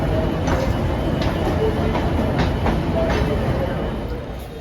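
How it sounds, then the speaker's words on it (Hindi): The Bangalore Rajdhani train pulls out from a station platform with a loud, steady rumble and rhythmic wheel clatter close by, tapering slightly at the end. "प्लेटफॉर्म पे उतरते समय मैंने देखा हमारे सामने से बेंगलोर राजधानी का डिपार्चर हो रहा था।"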